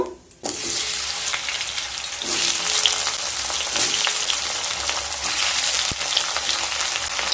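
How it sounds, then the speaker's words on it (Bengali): Cut raw mango pieces dropping into hot oil with panch phoron for chutney, a sudden loud rush of sizzling that settles into a steady hiss with an occasional clink. "তেল থেকে যখন সুন্দর একটা স্মেল বেরোতে শুরু করবে সেই সময় কেটে রাখা আমগুলোকে দিয়ে দেব।"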